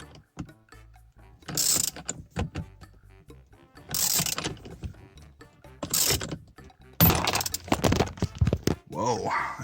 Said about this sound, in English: So that pop that just happened, that's the steering wheel breaking loose of the steering column.